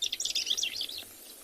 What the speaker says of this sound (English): And with that dark face, this is a southern masked weaver.